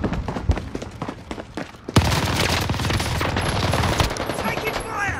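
Heavy automatic gunfire in Call of Duty: Modern Warfare, with loud, dense rattling bursts that take over after a couple of sharp shots and keep going almost without a break.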